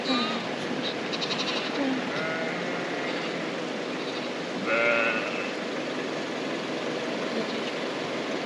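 Freshly shorn sheep bleating at a farm during the Highland County Maple Festival in Virginia, a few scattered calls over steady outdoor background noise, with people chatting nearby.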